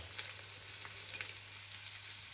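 Onions sautéing in a pan, heard as a soft, steady sizzle with faint crackles and a low background hum, no voices.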